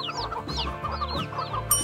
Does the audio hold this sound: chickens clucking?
yes